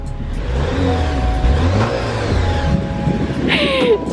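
A Jeep engine revs up and down several times, growling loudly and close by, ending in a sharp high-pitched squeal.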